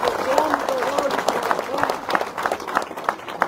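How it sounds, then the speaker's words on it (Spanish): A congregation claps in a scattered, uneven rhythm at a funeral service in San Andrés Itzapa, Chimaltenango, Guatemala, with voices talking over the applause. "Demos un aplauso."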